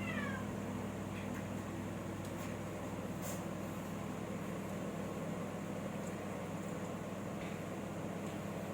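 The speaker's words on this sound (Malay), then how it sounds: "sekarang ni saya dah bagi kucing makan tadi" A cat meows several times after being fed, fairly close but moderately quiet, over a constant background hum like an air conditioner, with no talking.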